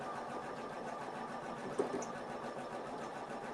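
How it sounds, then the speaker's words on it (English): An embroidery sewing machine stitches out a cat patch, running steadily and continuously at close range with a dense mechanical drone and one brief bump partway through as the needle works over a thick area of the patch. "it's stitching over the thick area and I can hear bump, bump, bump"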